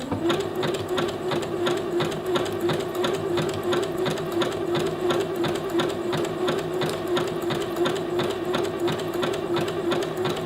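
A sewing machine stitches in reverse over elastic on a waistband, producing a fast, even, close-up chatter of needle strokes that runs without pause from start to finish.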